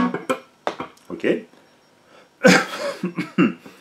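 A few sharp, husky coughs from a man with a cold, close and loud, breaking up otherwise quiet moments with short bursts of talking.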